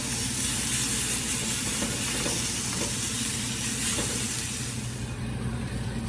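Puerto Rican chicken skewers, pinchos de pollo, sizzling as they cook, a loud constant hissing fry that keeps up without a break and has no voices over it.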